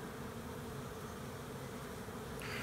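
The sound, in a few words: honeybee swarm buzzing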